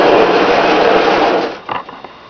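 A Marx 10005 toy train engine whirs along its track with a steady, buzzing motor hum that fades near the end, followed by a few small clicks.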